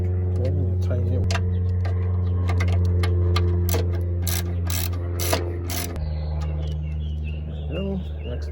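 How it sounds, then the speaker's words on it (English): A ratchet tightens the two 10mm bolts on the power steering line of a 1998-2002 Mercedes-Benz E320 W210, giving rapid clicking runs in short bursts close by over a steady engine-bay hum. "we're going to tighten the 2 10mm bolts that fasten the power steering line you see right here"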